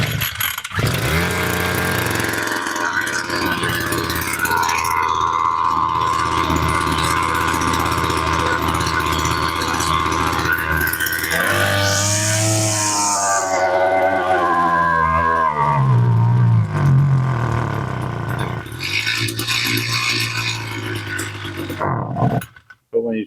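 A broken petrol strimmer engine starts and runs, giving a buzzing, revving drone with surging pitch changes and sputters, up close, while someone talks over it.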